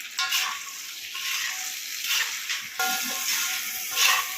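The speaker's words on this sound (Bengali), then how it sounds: "এক চামচ লবণ আর এক চামচ হলুদ দিয়ে ঢ্যাঁড়সটা ভালো করে ভেজে নিচ্ছি" Okra frying in hot oil in a wok with salt and turmeric, being stirred: a steady sizzling hiss in shifting waves with light scraping and stirring sounds, and no talking.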